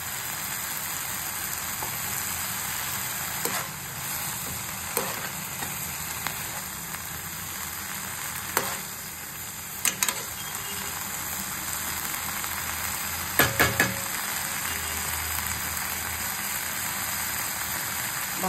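Methi bhaji of fenugreek greens cooks in a pan with a steady, soft simmering hiss and a few faint clicks, a constant background texture with no speech.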